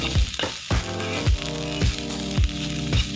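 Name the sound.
cabbage and capsicum being stir-fried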